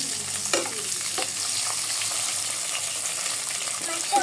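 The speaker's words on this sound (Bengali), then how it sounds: "মাছটা একটু ভালো করে একদম মশমশা করে ভাজতে হবে।" Salted, turmeric-coated fish tail frying until crisp in hot oil, a steady close sizzle with occasional stirring scrapes throughout.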